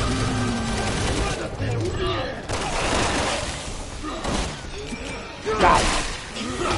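Bursts of gunfire and heavy impacts from the Resident Evil 6 video game fill the scene, with thuds, whooshes and battle noise layered under excited speech and in-game dialogue.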